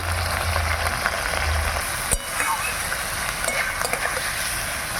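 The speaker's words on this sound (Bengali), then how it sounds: "এবার মশলা দিয়ে আলু খুব সুন্দর করে কষে নেব" Potatoes frying in a pan with turmeric, salt and ground spice paste, a low steady sizzle with a sharp clink from stirring midway and occasional scraping, no voices.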